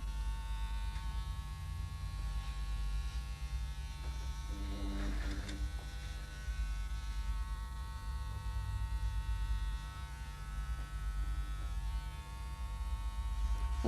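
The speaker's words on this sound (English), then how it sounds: "Hold the clipper against the nape and up and out." Breville electric hair clipper buzzing steadily as it cuts hair at the back of the neck, a constant close motor hum with a brief shift in tone midway.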